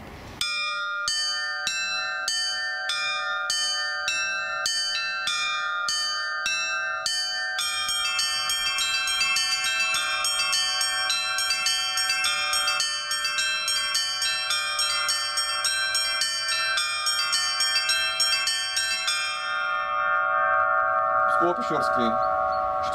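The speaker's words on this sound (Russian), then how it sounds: "оптинский звон." Church bells from the Litex foundry in Moscow and the N. Shuvalov foundry in Tutaev ring an Optina-style peal. Steady rhythmic strikes open into a dense, sustained ringing that overlaps and rings on, then trails off near the end.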